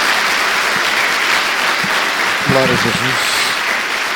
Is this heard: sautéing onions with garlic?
no